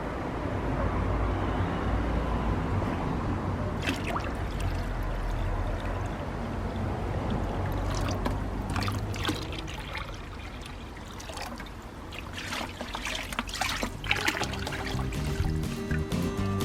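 Water poured from a bucket over soil in a garden sieve, a continuous splashing trickle with intermittent gurgles and soft thuds, fairly close and moderately loud.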